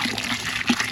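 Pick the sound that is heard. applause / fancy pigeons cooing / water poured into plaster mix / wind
water poured into plaster mix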